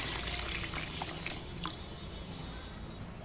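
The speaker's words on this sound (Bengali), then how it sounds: "এবার আমি জলও ঢেলে দিচ্ছি এর মধ্যে।" Water poured into a pan of young jackfruit set on a stove, a faint, brief splashing pour with soft liquid trickle, no voices.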